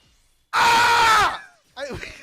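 A voice imitates an Amazoness call from Yu-Gi-Oh, letting out a loud, strained, sustained yell, then a shorter wavering cry after a brief pause.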